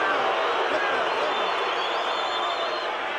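A boxing arena crowd in Las Vegas roars continuously during a title fight, a dense, loud wall of cheering and applause with a commentator's voice mixed in.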